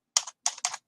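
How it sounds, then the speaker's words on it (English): A computer keyboard typing a password, three quick close bursts of crisp key clicks in under a second, with no voices. "Typing in your password"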